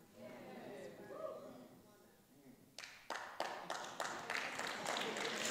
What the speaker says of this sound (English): Y'all can't applaud everything I say.